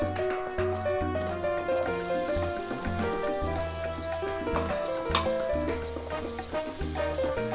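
Bell peppers sauté in melted butter over a low flame, giving a soft, continuous sizzle with faint stirring. The frying sits beneath steady background music throughout.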